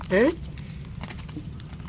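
Horses arrive with a short, loud whinny-like call at the start, followed by soft, scattered hoof clops while people talk nearby.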